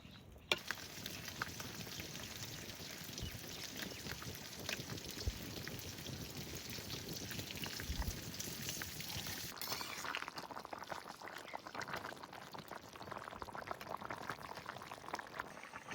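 Rohu fish curry with tomato, cauliflower and potato simmers in a pot over a village cooking fire, giving a steady bubbling hiss throughout that softens slightly toward the end.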